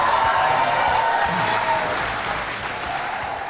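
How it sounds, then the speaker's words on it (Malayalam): Sustained studio audience applause at a Malayalam-language courtroom-style TV talk show, loud and dense, steady throughout with no talk over it. "ഈ കയ്യടി തുടർന്നുകൊണ്ടേയിരിക്കുക."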